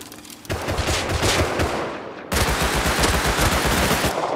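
Rapid automatic gunfire from the console edition of the video game Rust, loud and continuous bursts that jump even louder partway through, with no talk over it.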